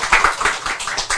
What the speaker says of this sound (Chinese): 拍手